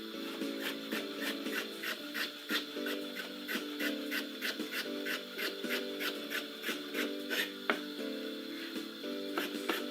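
Half a cucumber sliced on a board with a knife, a quick regular series of crisp chopping taps, close and moderately quiet, with no voices.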